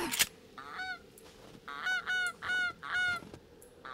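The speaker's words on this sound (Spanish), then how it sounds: "¿Pero dónde salen estos patos?" Ducks in the survival game 7 Days to Die, Alpha 20.6, in a snowy area, giving several loud nasal honking quacks in quick bursts, close by and clear over quiet background.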